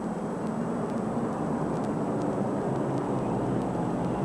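Steady, loud, broadband engine roar from small single-engine Cessna spotter planes flying overhead at a South African presidential inauguration, an unbroken drone with no voices.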